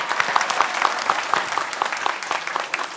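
Studio audience at a comedy club show clapping to welcome a film director: a dense, even burst of applause from a crowd, lively and close, lasting a few seconds with no talk over it.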